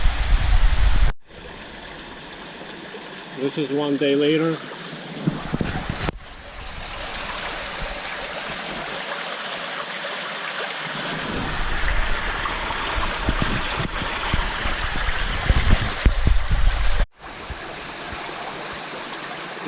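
Water pours through an aquarium's wet-dry shower tower filter in a steady, loud splashing rush across several cuts, with a brief spoken remark over it.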